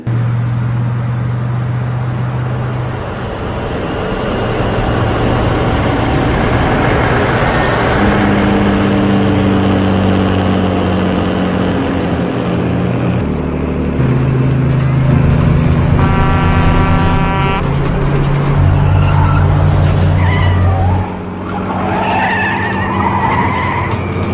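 A car is chased along a road by a truck in a film scene. Loud engines roar and tires skid continuously, with rising and falling engine tones and horn-like blasts layered over the racing din.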